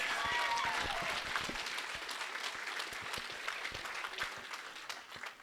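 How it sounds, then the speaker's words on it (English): A banquet audience at a Colorado boxing Hall of Fame ceremony breaks into sustained applause, dense clapping that fades gradually as it carries on. "Let's give her a big round of applause for that one."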